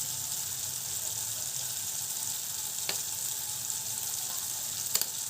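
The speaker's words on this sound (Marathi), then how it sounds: "टोमॅटो हे सगळे मसाले छान ते परतून घ्यायचे आहे मस्त हाय फ्लेमवरती" Cluster beans with tomato and spices sautéing in oil on a high flame, a steady close sizzling hiss with a couple of sharp spoon scrapes near the end.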